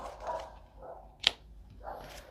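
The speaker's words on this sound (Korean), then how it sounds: "밖에서 지금 강아지가 짖고 있습니다" A dog barks outside, a few muffled, distant barks with one sharper yelp, heard faintly through an indoor room with soft background noise.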